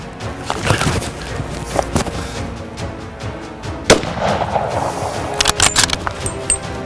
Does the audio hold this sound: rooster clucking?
no